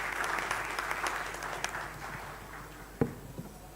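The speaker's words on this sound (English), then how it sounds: "we can all have a round of applause for him sharing his tips with us" Conference hall audience at an ophthalmology meeting gives a speaker steady, moderate applause, a dense even patter slightly distant, with a single sharp thump near the end.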